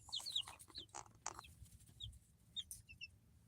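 Chickens at a homeless family's RV cluck and chirp softly in scattered bursts, faint and close, with light rustling between the calls.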